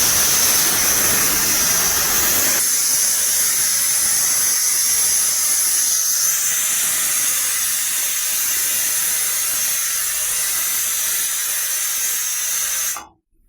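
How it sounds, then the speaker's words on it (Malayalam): A pressure cooker cooking bones and tapioca whistles loudly as steam escapes, a sustained harsh hiss with a high shrill tone that runs for about thirteen seconds before cutting off abruptly. "അപ്പം നമ്മളെ കുക്കറിൻ്റെ വിസിൽ അടിക്കാനായിട്ടുണ്ട് കേട്ടോ."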